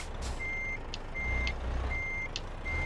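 A big rig in a European trucking simulator backs up with its reversing alarm sounding, four steady evenly spaced beeps over a low engine idle, with a few short hissing clicks in between.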